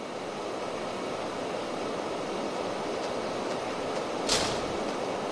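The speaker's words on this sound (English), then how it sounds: "we climb on top of this train, jump from cart to cart" Steady rumbling train noise from a Manhunt video game cutscene, a continuous broadband roar of rail travel with a brief brighter hiss near the end.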